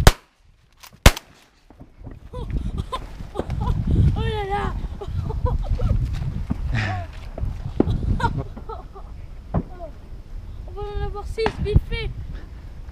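Shotgun shots during a waterfowl hunt on opening day in Minnesota: two sharp, loud reports near the start, then hunters talking quietly among themselves over the rest, with scattered clicks and handling noises.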